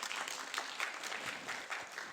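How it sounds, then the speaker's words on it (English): An audience at a talk on assessing language in bilingual children with dyslexia gives a speaker a soft, distant round of applause, steady and even over a couple of seconds. "please give her a round of applause"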